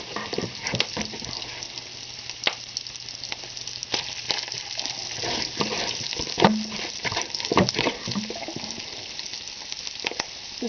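Garlic fries in a pan for a quick pan pizza, giving a quiet, continuous sizzle with scattered crackles and pops that rise a little in the second half.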